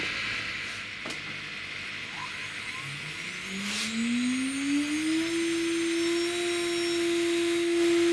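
CNC router machine cutting out a circle, a steady whining motor tone that rises in pitch and then holds level, with a few clicks early on, continuous and close.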